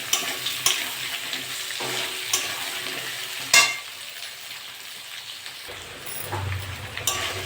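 Pumpkin being stirred and fried in a pan, a continuous crackling sizzle broken by several sharp clicks and scrapes of a utensil against the pan, close and moderately loud.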